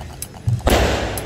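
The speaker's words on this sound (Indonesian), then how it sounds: "sekarang orang keluar petasan" Firecrackers exploding outdoors on New Year's, a few sharp cracks followed by a loud sustained burst of bangs.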